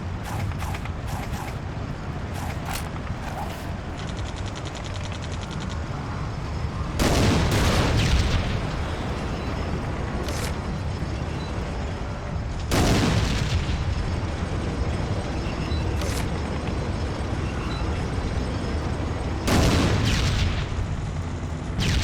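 Tank combat in the 2002 video game World War Zero (Iron Storm), with a constant heavy mechanical rumble and several loud booming blasts spaced a few seconds apart.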